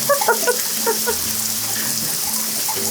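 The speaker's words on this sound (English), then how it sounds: "It is pouring." Heavy tropical rain pours steadily near Lizard Island on a boat trip, a dense constant hiss of falling water with faint low tones underneath.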